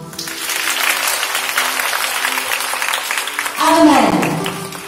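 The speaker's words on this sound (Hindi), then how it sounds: "हम सबके लिए ताली बजाएं" Audience at a school speech competition claps steadily, a dense patter of many hands sustained throughout, with a brief tonal swell near the end rising above the applause.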